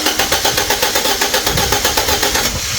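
A Fiat 500 engine cranks steadily without catching, with a rapid, even starter rhythm that stays loud and close for the whole stretch, with no voices.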